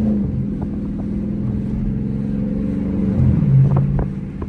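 Dodge Charger RT car engine rumbling low and steady while driving and drifting, with a short swell of revving near the end, heard from inside the car.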